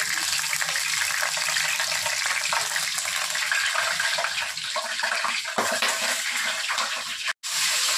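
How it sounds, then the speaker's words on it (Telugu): Water pours in a steady, loud gush into a pot of frying biryani masala with spices for mutton biryani, hissing continuously before a brief cut near the end. "కొంచెం వాటర్ వేయండి."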